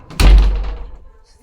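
A house door slams shut with a single loud, heavy thud that rings out and fades over about a second, with no voices over it.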